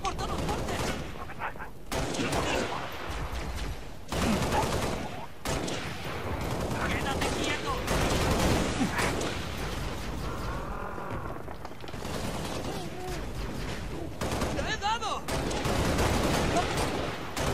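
Gunfire in the video game Halo: Reach, dense and continuous bursts of rapid shots and blasts filling the whole stretch at steady loudness, with a voice talking over parts of it.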